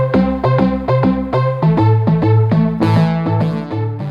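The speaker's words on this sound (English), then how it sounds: "I found this bass that kind of had this bouncy arpeggio on it from Trillion" A bouncy arpeggiated synth bass from Trillion plays alone as a steady run of short, punchy repeating notes, loud and close with no voices.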